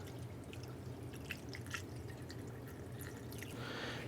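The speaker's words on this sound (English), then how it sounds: "Grab a clean funnel." Coolant poured through a funnel into the radiator of a 2000-2006 Toyota Tundra, a steady faint trickle with light dripping throughout, growing into a brief gurgling rush at the end.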